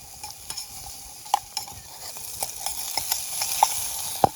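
Crackling and popping of a small wood fire burning in a small camp stove close by, sharp irregular snaps over a soft roaring hiss.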